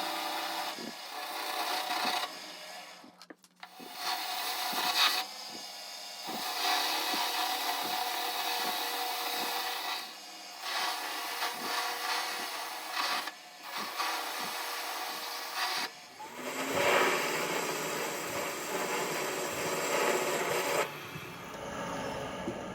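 A hand saw cuts through a piece of steel stock with repeated back-and-forth rasping strokes in bursts, pausing briefly between runs, close and fairly quiet.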